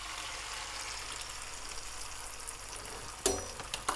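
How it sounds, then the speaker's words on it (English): Omelette egg mixture sizzles steadily in a hot frying pan, a constant bright hiss with a sharp clink of utensil against the pan near the end and small scraping sounds. "Get your mixture and then just pour it on there."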